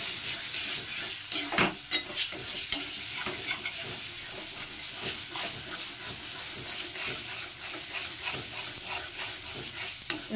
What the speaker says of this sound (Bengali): এবার এটাকে এর সঙ্গে ভালো করে মিশিয়ে নেব।